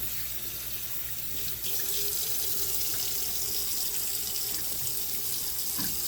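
Tap water pours steadily into a container to rinse meat. The close, continuous rushing gets a little louder and fuller after a couple of seconds as the flow increases, and no one talks over it.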